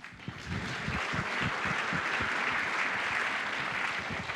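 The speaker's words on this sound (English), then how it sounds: "Please give her a warm applause." Audience applause at the opening ceremony of the 54th Directors' Fortnight, a sustained wash of many hands clapping that swells after a brief start and holds steady, loud and full.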